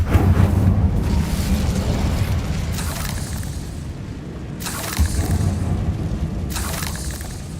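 The Incendio fire spell cast repeatedly in the Hogwarts Legacy video game, deep booming whooshes of flame bursting out every couple of seconds over a low, rumbling game soundscape.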